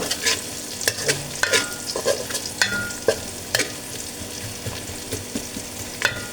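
Onion being lightly fried in a pan after a cumin tempering for a mustard-paste katla fish curry, with a steady broadband sizzle broken by repeated sharp scraping strokes of a spatula stirring, close and fairly loud, no voices.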